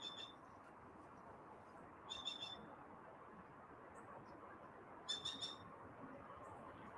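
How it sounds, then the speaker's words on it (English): Two short, bright bird calls from an unknown species ring out outdoors, each a quick burst of a few notes, spaced about three seconds apart over a steady background hiss. "What the hell sort of bird was that?"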